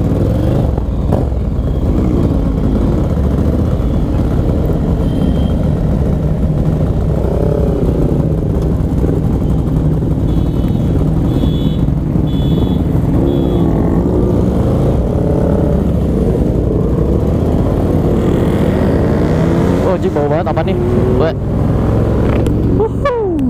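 Roughly eleven motorcycles ride together in a group on a Bandung road, engines droning steadily and loud throughout with occasional revving and wind rumble, while a rider talks over the noise.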